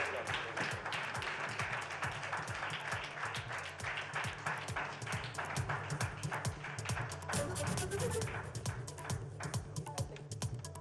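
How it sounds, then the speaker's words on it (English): A large auditorium audience at a summit applauds steadily and loudly, with dense continuous clapping throughout. "I think the applause should be a lot louder."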